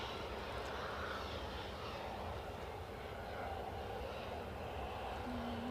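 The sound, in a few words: Lufthansa airliner arriving at Edinburgh Airport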